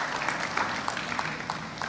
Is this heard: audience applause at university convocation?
yes